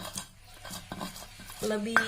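Spices are ground by hand in a stone cobek mortar for a yellow rice dish with chicken intestines, liver and gizzard, making repeated close scraping and knocking strokes with small clinks near the end and no talk.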